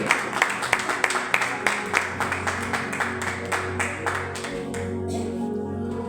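Sustained applause from a church worship meeting audience, sharp claps ringing out over a steady musical drone, the clapping gradually thinning and fading toward the end.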